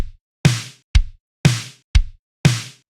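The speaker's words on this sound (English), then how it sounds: "take some drum samples that sound like this" Dry, punchy drum hits with no reverb tail: five separate strikes in a steady alternating kick-and-snare pattern, each sharp and close with a short decay, with nothing else sounding.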